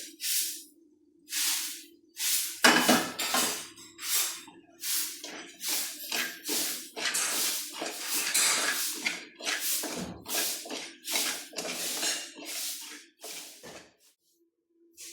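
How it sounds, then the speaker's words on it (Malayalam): Rice and garlic dry-roasting in a pan while being stirred, giving repeated bursts of scraping and rustling at a steady rhythm, close and fairly loud, with a low steady hum beneath. "എൻ്റെ വെളുത്തുള്ളി പോണ ഇട്ട് കൊടുത്തു ഈ അരി വറുത്തെടുത്തു"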